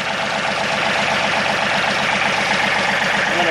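A 2017 John Deere 2032R compact tractor runs with its PTO engaged, the engine chugging in a steady, loud idle-like rhythm close to the listener for the whole moment.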